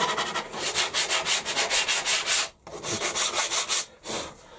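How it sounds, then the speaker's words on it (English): Wood pieces being sanded by hand, a steady run of rhythmic rasping back-and-forth strokes, close and fairly loud, broken by two short pauses with no talking. "So I'll just sand these off."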